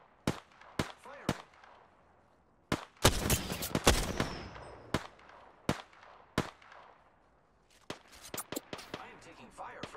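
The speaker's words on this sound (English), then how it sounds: "I am taking fire, friends." Gunfire in Apex Legends on PS4: sharp, spaced single shots and short bursts, loud and close, with a dense cluster of rapid shots early on and a quieter gap before more shooting resumes.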